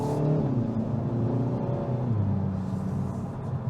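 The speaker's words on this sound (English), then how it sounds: "I'm gonna get on throttle just a little bit here just to check out the acceleration." The engine of a 2022 Kia Forte GT in sport mode hums and revs steadily under acceleration from inside the car, a continuous close, low-pitched drone with road rumble.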